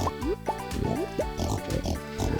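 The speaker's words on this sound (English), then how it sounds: "Hey, big pigs." Pigs on a beach farm in the Stardew Valley video game give repeated short oinks and squeals, several rising calls in quick succession, loud and close over steady game background music.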